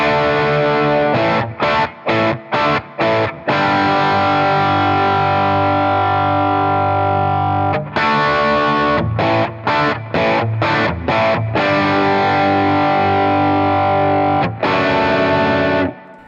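Electric guitar through a Boss Katana amp on its 50 watt setting, heavily distorted, with sustained chords broken by bursts of rapid choppy stabs, loud and continuous.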